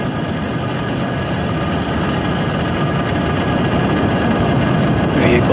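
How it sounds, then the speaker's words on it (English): SpaceX Falcon 9 rocket engines roar at liftoff on the Kuiper-3 launch, a loud, continuous, dense rumble that stays steady and unbroken throughout. "ignition, engines full power, and liftoff"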